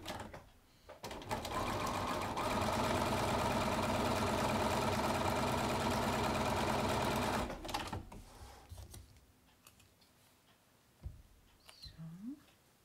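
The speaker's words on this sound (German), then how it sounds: "Dann kann man auch drüber nähen." A sewing machine stitches a Log Cabin quilt block in one steady, close, fast whirring run of about six seconds, then stops, leaving quiet handling noises.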